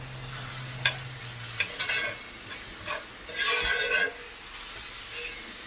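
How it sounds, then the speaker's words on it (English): A utensil scrapes and stirs in a pan of sizzling food in a home kitchen, with several short scraping strokes over a steady background frying sizzle and a low hum early on. "Sorry for the scrape."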